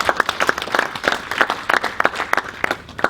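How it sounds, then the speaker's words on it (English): Wedding guests clap during the speeches at a reception. The applause is a dense patter of many hands that holds steady and moderately loud for a few seconds. "Give him a clap, yeah"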